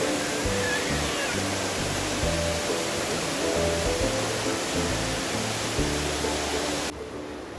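Constant rushing roar of a waterfall near Xalapa, Veracruz, Mexico fills the scene, with background music faintly underneath before it cuts to near quiet at the end.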